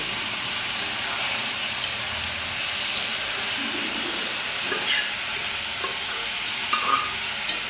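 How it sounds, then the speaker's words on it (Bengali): Peanuts and green chilies frying in oil, a dense continuous sizzle and hiss with occasional light stirring clicks, close and fairly loud throughout. "দেখুন বাদাম এবং লঙ্কা আমার প্রায় ভাজা কমপ্লিট"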